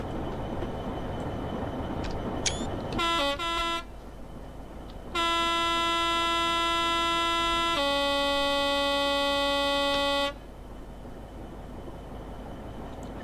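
A Class 66 diesel locomotive in Train Sim 2020 sounds its horn while curving through Northampton Station. There are a few short toots, then a long sustained two-tone blast that drops in pitch midway, over a low engine rumble.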